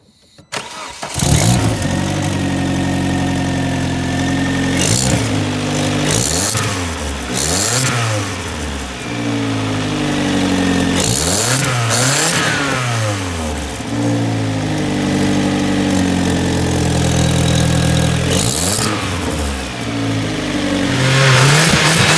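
A turbocharged Vauxhall Astra Coupe, about 240 bhp, starts and then revs repeatedly, its engine note sweeping up and down in a series of loud blips over a steady idle, close to the microphone.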